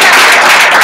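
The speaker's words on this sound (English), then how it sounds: "All right, clap it up, clap it up." An audience at a training event bursts into loud, dense clapping that fills the whole short moment, close and continuous with no voices over it.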